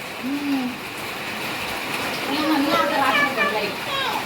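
Steady rain patters throughout while children's voices chatter and call out over it.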